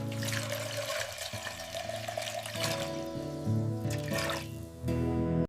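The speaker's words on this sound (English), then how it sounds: "Pouring fresh water to boil our eggs." Fresh water pours steadily into a cooking pot for boiling eggs, a soft continuous splashing trickle under a background of sustained musical tones.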